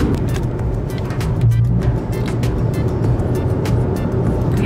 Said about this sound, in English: We are driving down the road.